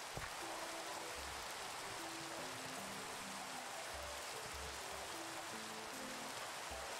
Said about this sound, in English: can you please stop raining?